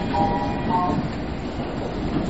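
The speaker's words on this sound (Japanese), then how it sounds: "黄色い電車、3番に発車します" A yellow Yamanote Line train departs Shinjuku Station in Tokyo, rumbling steadily along the rails with low, continuous noise and a faint metallic squeal early on, no voices.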